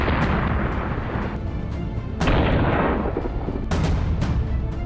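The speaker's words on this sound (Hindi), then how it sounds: "अचानक आर्मेनियाई सैनिकों में भगदड़ मच जाती और धमाके के बाद सब कुछ धुआं धुआं हो जाता है।" Explosions from a drone strike on soldiers in the Nagorno-Karabakh region, heard as loud, dense booming blasts, with a sharp fresh detonation about every two seconds over a continuous roar of rumble.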